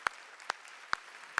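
A church congregation claps in unison during a Sunday afternoon service, four sharp, evenly spaced claps about half a second apart over a quiet room.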